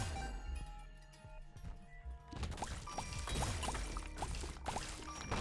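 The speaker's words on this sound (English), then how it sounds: "Like a Holy Water helping us out as well." The Holy Water item in The Binding of Isaac gives a soft liquid splash and a pour, followed by quick bright clinks and ticks amid game effects.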